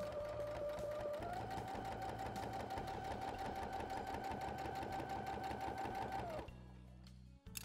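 A sewing machine runs steadily for about six seconds while stitching a travel toiletry bag, finishing with a backstitch. Its close, even whirr holds one pitch and then winds down, leaving a quiet pause.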